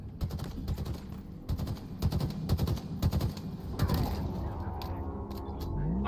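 Rapid bursts of automatic gunfire from the shooter game Halo Infinite, loud close volleys in quick clusters, then a mechanical whir and fading rumble.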